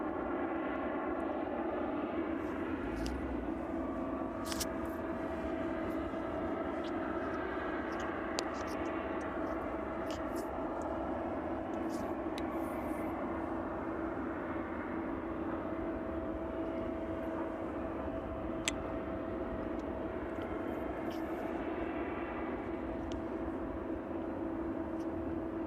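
An Aerologic Boeing 777 freighter sits at East Midlands Airport on a cold evening, its engines giving a faint, steady hum and whine in the background, with scattered small clicks and no clear talk.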